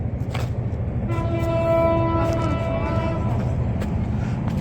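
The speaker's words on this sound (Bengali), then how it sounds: "আর ট্রেন যাইতেছে" A train rumbles past with a long, loud horn blast of steady tones lasting a couple of seconds, over constant low rail noise, heard from a roadside in a Bangladeshi village.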